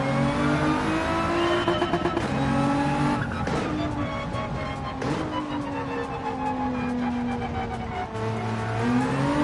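Race car engine in the Gran Turismo video game, a loaded-up GTR, revving steadily with rising and falling pitch through gear changes and turns, loud and continuous throughout with occasional tire squeal.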